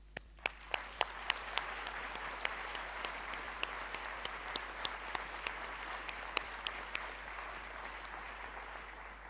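A small audience at an academic talk gives continuous applause, a steady patter of many hands with a few sharp, close claps standing out at irregular intervals.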